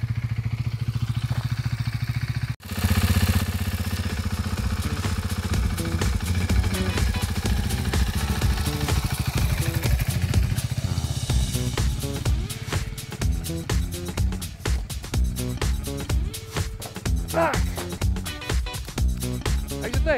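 A KTM Duke 390 motorcycle engine runs nearby, rough and steady at first, then broken into stuttering bursts and dips as a learner works the clutch, with no talking.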